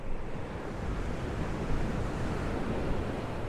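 Steady beach wind, about 11 mph with gusts near 20, rushes and buffets against the microphone, a constant broadband roar like surf with no clear breaks, during a DJI Mini 3 Pro drone flight.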